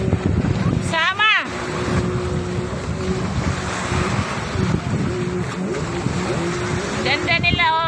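Jet skis run over the sea at Durrah Beach, a steady engine drone under wind and surf with a rising whine near the start and another close pass at the end, while people talk nearby.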